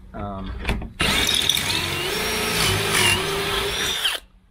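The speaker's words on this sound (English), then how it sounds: "stays nice and tight while you drill your hole" A power drill bores pocket holes through an 8-inch board held in a pocket-hole jig set for 3/4-inch stock. It runs as one loud, steady whine lasting about three seconds, after a brief voice at the start.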